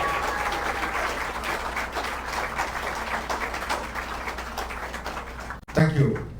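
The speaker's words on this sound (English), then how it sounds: "Come on, give them a big round of applause." Steady applause from an audience at the opening of an oil and gas training center in Guyana, a continuous patter of many hands that breaks off near the end with a brief thump and voices.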